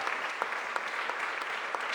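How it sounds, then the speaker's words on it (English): Applause at a city budget press conference with the mayor, a dense, even wash of clapping from the gathered audience, moderately soft and sustained throughout. "Give them a round of applause as well."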